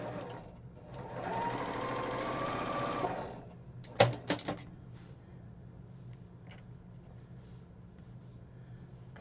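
A sewing machine stitches quilt fabric in one steady, close run lasting a few seconds, followed by a few sharp clicks and then quiet handling.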